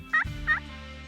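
An Eastern wild turkey gobbles twice in quick succession, loud and fairly close, during a spring turkey hunt, with no voices over it.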